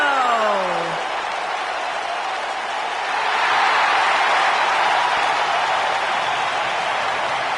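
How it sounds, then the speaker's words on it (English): A professional wrestling arena crowd claps and cheers for Chris Jericho's entrance, a dense, sustained wash of applause swelling slightly midway, with a rising tone sweeping in at the start. "Get on your feet and applaud over there, Suxton."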